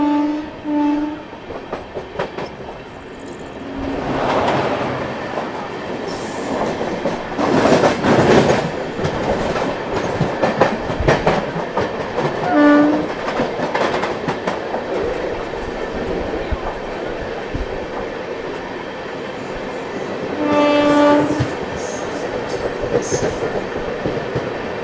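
An Amrit Bharat Express LHB passenger train runs along with rhythmic wheel clatter and rumble, while its horn sounds several times in short repeated blasts, some near and some more distant, and a voice speaks briefly in the background.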